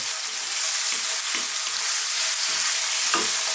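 Thin boneless, skinless chicken fillet sizzles and crackles steadily in a wok over very high heat, with occasional stirring scrapes; close and fairly loud, no talking.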